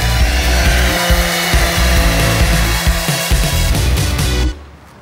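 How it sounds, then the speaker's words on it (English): Power sanding of a freshly cut wooden plank for a flat-makeover breakfast bar, a steady loud grinding whir running continuously before cutting off near the end. "I'll get you to give it a sand down"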